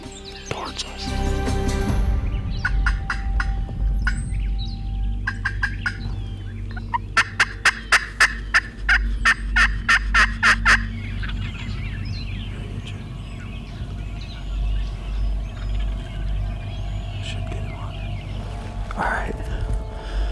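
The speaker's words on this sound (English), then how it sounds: "I got a bird gobbling" A wild turkey gobbles during a spring hunt, one rapid rattling burst followed by a loud string of sharp clucks from a call, heard at moderate distance over soft outdoor background and quiet whispering.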